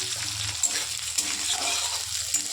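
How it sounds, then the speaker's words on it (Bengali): Chopped onion frying lightly in a pan, a soft, steady sizzle with faint clinks of stirring, heard close and alone. "তো হালকা হালকা একটু ভেজে নেব।"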